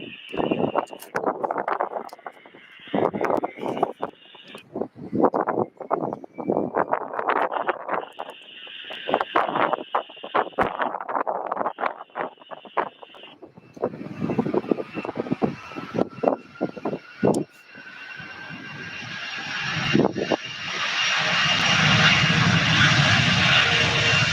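A UPS cargo jet takes off at Louisville SDF airport, bound for Long Beach, California. Broken, rumbling engine noise gives way to a swelling roar that grows steadily louder and fills the final seconds.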